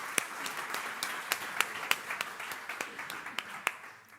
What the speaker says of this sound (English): So give a big round of applause for Christopher and Melissa.